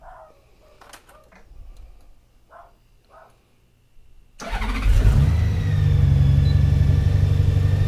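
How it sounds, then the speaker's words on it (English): Electric motorcycle on a dual parallel battery setup powering up on its first run: quiet room with faint clicks, then a sudden loud, steady whirring hum that rises slightly and holds until the end. "So this is the first run for the motorcycle. Let's start it up."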